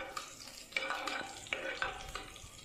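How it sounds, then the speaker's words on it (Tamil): Chopped ginger and garlic sauté in a pan for Chettinad tomato rice, with a soft sizzle broken by several distinct scraping stir strokes of a spoon against the pan. "இப்போ வந்து பொடியை கட் பண்ணி இஞ்சி பூண்டு போட்டு வதக்கிட்டுருவோம்."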